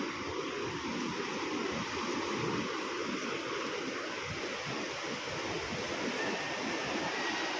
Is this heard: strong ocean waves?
yes